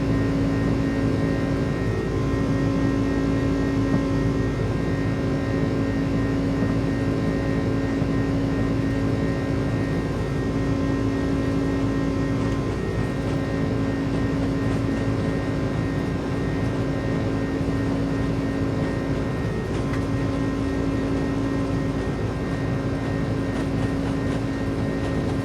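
Iran Air A306 airliner on its takeoff roll in a flight simulator game, a steady, loud engine roar with sustained hum and whine holding level throughout, no voices.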